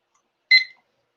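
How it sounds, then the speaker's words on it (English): A single short electronic beep from a timer being started, clear and close in otherwise silent surroundings. "I've got the timer started."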